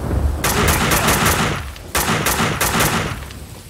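Bursts of automatic gunfire in the shooter game Max Payne 2, two loud clusters of rapid shots separated by a short pause, sharp and close.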